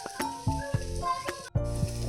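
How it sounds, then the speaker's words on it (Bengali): Potatoes sizzle in a frying pan with a close, crackling hiss, broken by a few sharp clicks and knocks of utensils and one brief pause. "আলু ভাজছি, মানে আলু ভাজি করছি"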